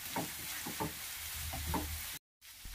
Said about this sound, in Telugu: ఆనియన్స్ వేసి ఫ్రై చేసుకుంటున్నాం కదా